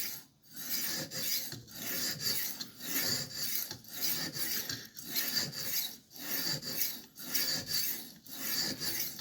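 A file rasps steadily across a blade in repeated relief-grinding strokes, sharpening the edge with a rhythmic back-and-forth scrape, loud and close, with brief pauses between strokes and no talk.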